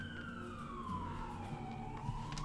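A siren wails in a long, smooth tone that slowly slides downward and then levels off, steady and moderately loud over a low rumbling background hum for the whole stretch.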